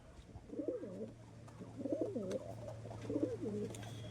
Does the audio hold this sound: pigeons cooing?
yes